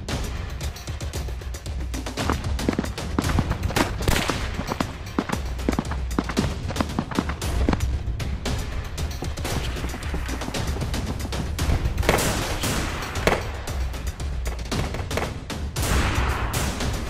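Rapid, irregular gunfire fills a Filipino film scene, a dense fusillade of sharp cracks and bursts running nearly continuously over a rough, busy background.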